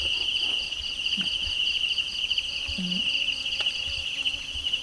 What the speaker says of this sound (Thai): จิ้งหรีดพร้อมเก็บดูตรงไหน ดูจากที่มันร้อง